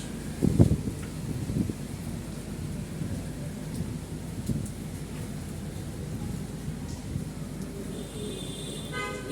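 Broadband roar of rain and gusting wind from Cyclone Remal in Bangladesh, 2024, with a sharp rumble near the start and a car horn faintly in the distance.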